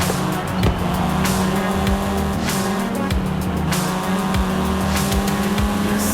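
A Volkswagen Golf R from the seventh generation drives in Forza Horizon 5, its engine revving and roaring loudly with shifting pitch, tire noise and brief squeals, continuous and close throughout, without talk.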